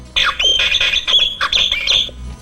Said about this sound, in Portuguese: De hora em hora, o relógio pia.